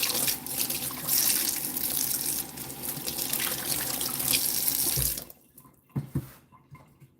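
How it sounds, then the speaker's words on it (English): Tap water gushes steadily into a sink to thaw frozen fish while cooking Nigerian moimoi with lentils, a loud continuous flow that cuts off after about five seconds, followed by a few faint knocks and drips. "let's see if I can defrost it with water."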